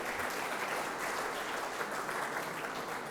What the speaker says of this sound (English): Let's clap it up for Nothing But Cakes.